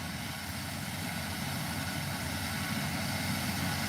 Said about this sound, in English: this chopper really sounds pretty cool